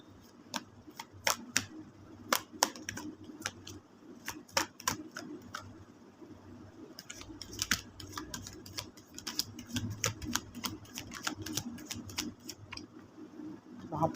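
Tarot cards being shuffled by hand, a close, quiet run of crisp flicks and taps with short pauses, irregular in rhythm and heard alone.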